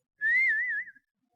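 A person whistles a single short, wavering note lasting under a second, clear and close in a quiet room.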